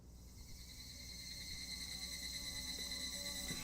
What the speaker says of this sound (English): It's the soft breeze and the chirping cicadas